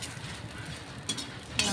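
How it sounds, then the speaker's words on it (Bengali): Green chillies fry in hot oil in a pan, a steady soft sizzle broken by a couple of brief scraping stirs. "তেলের মধ্যে এবার আমি ভেজে নিয়েছি। এই যে লঙ্কাগুলো ভাজা হয়ে গেছে।"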